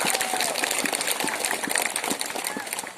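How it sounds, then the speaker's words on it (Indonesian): Audience applause at a church blessing ceremony for a Marian grotto, a dense steady clatter of many hands clapping throughout, with a faint voice audible underneath. "Sekali lagi kita berikan tepuk tangan untuk mereka bertiga."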